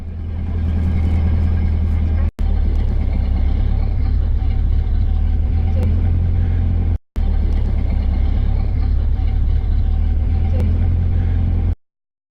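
A 1930 Ford Model A drives along with a steady low engine rumble that runs almost the whole time, broken by two brief cutoffs and ending abruptly.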